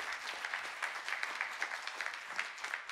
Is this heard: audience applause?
yes